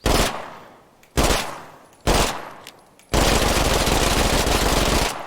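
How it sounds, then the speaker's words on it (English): A 50-round gun in State of Decay 2 fires three loud, near bursts of rapid automatic shots, each fading into a decaying tail, then a sustained full-auto stream for about two seconds before stopping, with no talk. "Wow, that goes through bullets fast."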